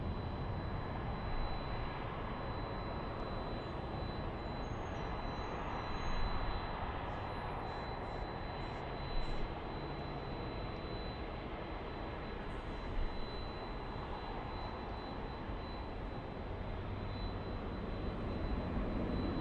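A large airliner taxiing to the runway at LAX produces a steady, distant engine rumble and broadband roar that stays even throughout, with faint whines drifting above it.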